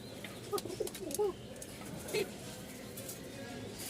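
Pigeons coo softly in a few short, low throaty bursts, faint and near, over steady background noise with someone talking.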